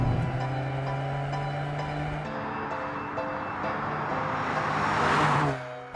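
A Toyota GR Corolla all-wheel-drive hatchback drives along with a steady engine hum that changes pitch as it shifts through gears, rising and swelling before the sound fades away near the end.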